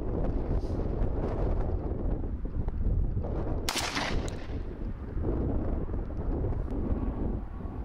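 Strong wind blowing outdoors at an airgun shooting range, a steady loud rumbling roar buffeting the microphone throughout, with a brief sharp burst midway and no talking.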